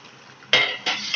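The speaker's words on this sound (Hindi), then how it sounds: "अब मैं उस मिक्स किए हुए दूध को इस दूध में डाल दूंगी और अच्छे से मिक्स कर दूंगी" A spoon stirring milk in a pot while making rasmalai, two scraping, swishing strokes against the metal, close and fairly loud, with no voices.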